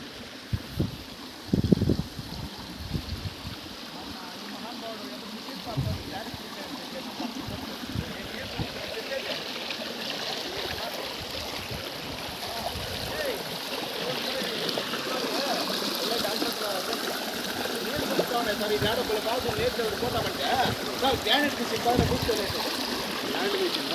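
Shallow, low stream water runs near the Jalakanteshwara temple at Mogili, Devarakonda, Palamaneru, making a steady close-up rushing wash throughout, with a few sharp knocks early on and faint voices talking in the background.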